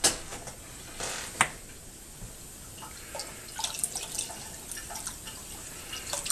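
Pickling liquid poured off from a jar of peppers in a home kitchen, heard as soft splashing and scattered drips in uneven bursts, fairly close and alone with no talk.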